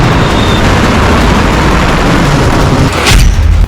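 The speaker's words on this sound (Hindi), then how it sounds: "रूस ने किया यार्स बैलिस्टिक मिसाइल का परीक्षण।" A Russian Yars ballistic missile test launch: a loud, sustained roaring rumble, continuous and dense across the whole clip, with a brief surge near the end and no voices.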